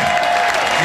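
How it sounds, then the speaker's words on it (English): Crowd applause at a live tribute concert, heard as a brief, loud, dense burst of clapping with a faint steady tone running through it. "All right, applause."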